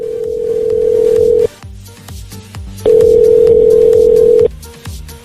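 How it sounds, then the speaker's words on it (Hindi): Phone ringback tone on a call placed to an emergency contact number, two long steady tones separated by a pause, loud and close with faint background hum. "काफी घंटी बजने के बाद आखिरकार किसी ने फोन उठाया।"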